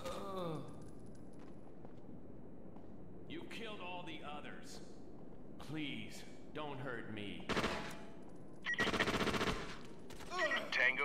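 Bursts of gunfire from the tactical shooter video game SOCOM U.S. Navy SEALs on an oil platform mission crack out in short volleys, mixed with game voices and ambient noise.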